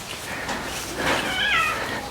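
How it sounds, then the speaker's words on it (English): A cat harassed by a dog lets out a drawn, wavering meow, close and fairly loud, over a quiet background with no talk. "terrorizing a cat"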